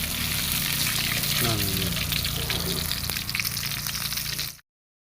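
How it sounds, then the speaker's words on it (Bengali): Rohu fish fries in hot oil with a steady, dense sizzle that runs close and loud nearly throughout, cut off abruptly near the end, while a voice speaks briefly over it. "মাছ ভাজি হয়ে গেছে।"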